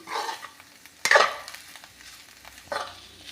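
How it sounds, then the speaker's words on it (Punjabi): Bitter gourd with salt and turmeric stirred in a pan, giving a few scraping, clattering stirs with a louder burst in the middle against a quiet background. "ਆਪਾਂ ਇਹਨੂੰ ਲਗਾਤਾਰ ਹਿਲਾਉਂਦੇ ਹੋਏ ਚੰਗੀ ਤਰ੍ਹਾਂ ਮਿਕਸ ਕਰ ਦਾਂਗੇ"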